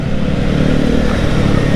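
Kawasaki Ninja ZX-4RR, a roughly 400 cc four-cylinder sport bike, riding along with a steady, close, bassy engine drone at constant loudness and no talking.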